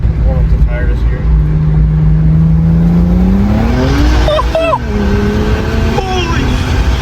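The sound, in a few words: Ford Mustang GT accelerating to warm up the tires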